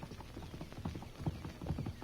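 Horse hooves clip-clop in a steady walking rhythm for a radio drama western, fairly close and moderately loud, with no talk over them.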